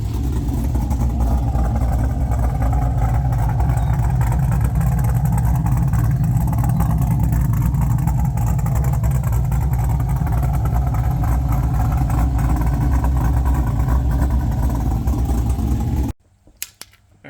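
A 1969 Camaro with an LS3 engine swap and custom exhaust runs at a steady, smooth idle, deep and loud, with a low rumble that holds for about sixteen seconds before cutting off abruptly.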